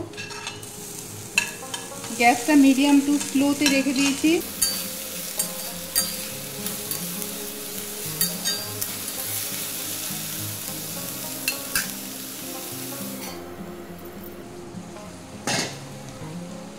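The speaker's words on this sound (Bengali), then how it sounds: "একসাথে ভাজা করে নেব।" Ivy gourd, onion and green chili fry together in a pan over medium-low gas, with a continuous sizzle, scraping stirs and occasional clinks. A voice speaks briefly over the cooking.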